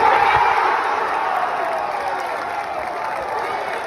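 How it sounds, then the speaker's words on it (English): Golf gallery at Caves Valley erupting as Patrick Cantlay beats Bryson DeChambeau, a loud sustained roar of cheering and clapping that slowly eases off over a few seconds. "So there's a little crowd reaction up there at Caves when Cantley defeated Bryson DeChambeau to win it"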